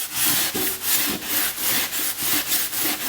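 Scotch-Brite 7440 hand pad scrubbing light rust off a steel hand saw, a steady rhythmic back-and-forth rasping of roughly a dozen close, loud strokes with no talking.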